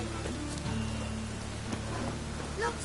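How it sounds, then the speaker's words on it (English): Steady rain in the video game The Witcher 3 patters on a surface in a soft, continuous hiss with a low background hum and a few faint tones. "Lots of fuss over lots of rain."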